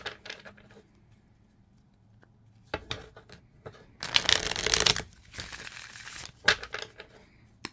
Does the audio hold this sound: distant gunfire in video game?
no